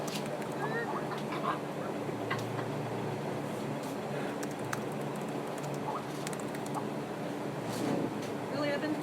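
Several people in a live music stream imitate chickens, giving scattered clucks and squawks at a distance under background chatter and room noise.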